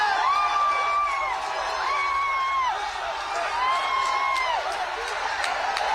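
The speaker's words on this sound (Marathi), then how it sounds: "सगळ्या विद्यार्थ्यांनी आता जल्लोष सुरू केलेला आहे।" Students celebrating at Jantar Mantar in Delhi raise a steady crowd roar, with repeated long rising-and-falling whoops and shouts riding over the dense, continuous cheering from a large gathering.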